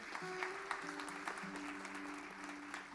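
Applause from a church congregation during a Spanish-language service, a steady wash of clapping filling the whole moment with a faint sustained tone beneath it.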